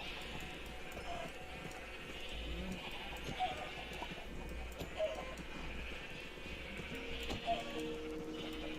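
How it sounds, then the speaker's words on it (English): Sheep bleat in the blocky world of a Minecraft multiplayer server, several short cries scattered across the clip over a constant game background hum, with light hoof-like clopping and no speech. "The sheep are watching."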